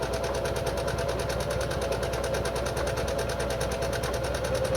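A Singer Genie sewing machine runs continuously up close, its rapid, even needle chatter and motor whir steady throughout with no pauses.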